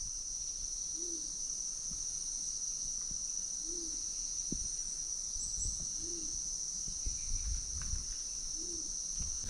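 A low, hooting bird call repeats four times at even intervals, fairly faint and distant, beneath a constant high-pitched buzz of crickets.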